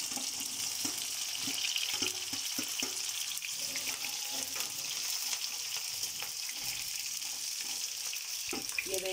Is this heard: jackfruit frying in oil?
yes